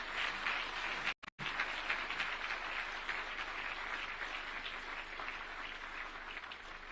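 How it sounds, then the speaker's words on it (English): A crowd at a national prayer breakfast in 2025 applauds, and the dense clapping runs on steadily at moderate volume with a brief dropout near the start. "the round of applause you gave him is not sufficient"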